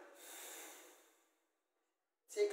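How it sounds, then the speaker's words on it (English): Deep inhale through the nose during yoga practice, a long airy breath swelling then fading, followed by silence and a sharp nasal snort-like intake at the end, close and quiet. "Take maximum inhale, breathing on the nose."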